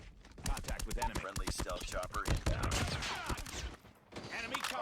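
Rapid gunfire from an EM2 rifle in a video game, a dense stream of sharp shots running nearly the whole time with a short gap near the end, loud and close.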